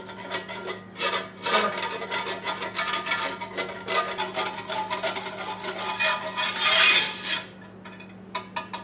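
Whisk rapidly scraping flour into hot fat in a pan to build a roux for gravy, a steady close rhythmic rasping and clicking that runs unbroken for several seconds with no talk.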